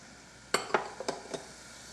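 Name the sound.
stirring food while cooking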